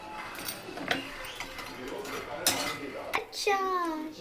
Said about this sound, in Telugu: ఫస్ట్ శనగిత్తనాలు బాగా వేయించుకునేద్దాం దోరగా.